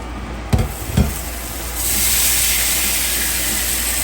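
Hot skillet lifted off the heat after searing sous-vide pork tenderloin, two quick metallic knocks followed by a loud steady hiss of sizzling and steam, close and alone.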